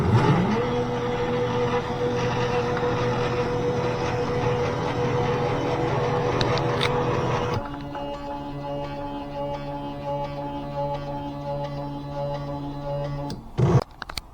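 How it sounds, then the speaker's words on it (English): A custom-built CNC drawing machine runs with a fine-liner pen taped on, tracing a circle. Its motors give a steady, tonal whirring drone that drops to a quieter hum midway and ends with a brief clunk. "this is CNC machine test 1. We are trying to draw a circle"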